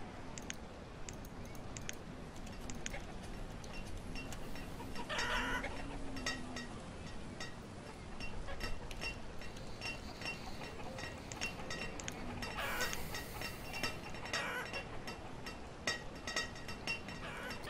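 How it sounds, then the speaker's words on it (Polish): Chickens cluck in the city-building game Banished, the fowl calls sitting inside a dense, steady bed of game ambience and background sound for the whole stretch, with no talking. "Po co mi więcej kurczaków?"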